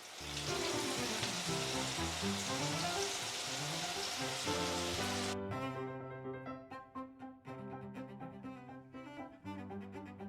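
Loud, dense sizzling of peanut crackers frying in hot oil in a wok, with music playing underneath; the crackle thins out halfway through.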